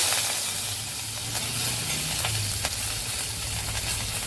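Mutton liver fries in masala in a pan, a steady moderate sizzle and hiss with occasional stirring clicks, close and continuous with no talking.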